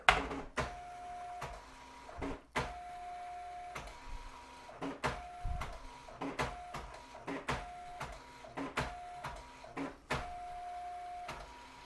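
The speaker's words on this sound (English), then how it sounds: "we're going to be printing to the printer" A Commodore 64 printer chatters in repeated bursts, its print head buzzing and clacking line after line with short pauses between.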